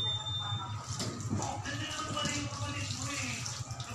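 Water poured into a bread dough mixture with egg, a continuous close splashing and trickling pour lasting several seconds, steady and alone.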